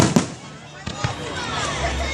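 Fireworks bursting at a park show in Elmer Thomas Park, with a few sharp near booms early on over a steady crackling, hissing background and people talking nearby.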